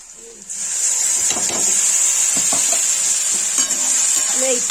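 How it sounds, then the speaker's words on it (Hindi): Pureed tomato poured into a pan of red chili and turmeric frying for Kashmiri red amaranth greens, with a loud steady sizzle and hiss, and stirring and scraping sounds over it. "अब इसमें टमाटर की प्यूरी डालूंगी पिसी हुई।"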